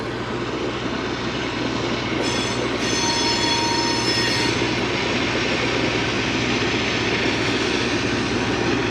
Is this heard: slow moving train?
yes